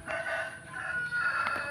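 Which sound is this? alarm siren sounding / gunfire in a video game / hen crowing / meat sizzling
hen crowing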